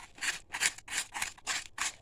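Scissors snip through the wrapping around a candle for a round wedding centerpiece, producing six quick, crisp cuts at an even rhythm, close and fairly quiet.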